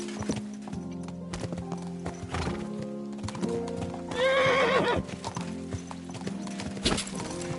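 Horse clip-clopping in Kingdom Come Deliverance 2 as riding begins, with irregular hoof thuds and tack clatter, then one loud, wavering whinny near the middle before the hooves carry on.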